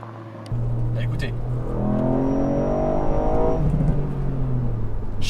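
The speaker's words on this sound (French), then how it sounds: "Chaque passage de rapport, il y a des pop." A Ford Fiesta ST Mk8 three-cylinder engine revs up through the gears, its rising drone broken by sharp exhaust pops at the shifts, close and loud with no talking.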